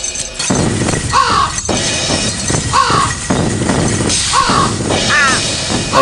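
In the PC game Thirty Flights of Loving, bird squawks repeat roughly every second and a half over a loud, dense crashing, shattering noise bed, with no speech.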